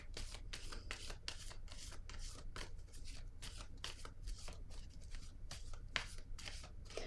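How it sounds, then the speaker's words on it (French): Tarot cards are handled and laid onto a spread, with a close, continuous soft rustle and slide of card stock in quick repeated strokes. "Je vais déposer une carte sur cette zone par curiosité."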